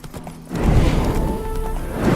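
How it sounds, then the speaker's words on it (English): Horse hooves clip-clopping with a brief whinny in The Witcher 3 video game, a steady loud trot starting after a quiet opening half second, with no talking. "Spooking my horse."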